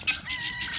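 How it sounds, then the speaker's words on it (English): A rooster crows once, loud and close, its high harmonic call stretched out and wavering over the full clip. "Linus just scared the crap out of everybody with a rooster call."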